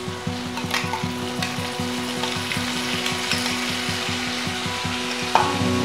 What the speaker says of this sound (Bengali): সেই পেস্টটা সম্পূর্ণ ঢেলে দিচ্ছি